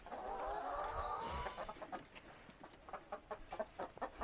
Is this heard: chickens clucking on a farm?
yes